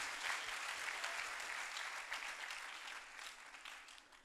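A church congregation claps together at an Easter service, a soft, steady wash of applause that sounds distant and fairly faint, thinning slightly toward the end.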